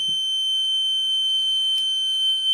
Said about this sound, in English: Alarm is working